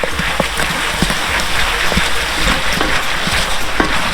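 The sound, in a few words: popcorn popping in pot, cherry cinnamon glaze popcorn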